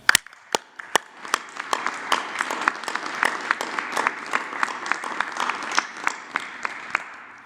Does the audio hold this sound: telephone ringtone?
no